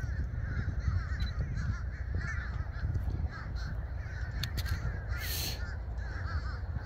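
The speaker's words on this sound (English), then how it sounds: "I don't know why these birds are out." Crows caw repeatedly at sunset outdoors, harsh calls near and far over a steady low outdoor background, with no talking.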